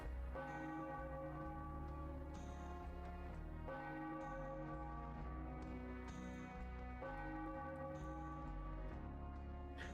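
A bell rings repeatedly in an RPG Maker MZ game, a sustained church-bell peal with resonant tones recurring in a regular pattern over soft background, with no talk.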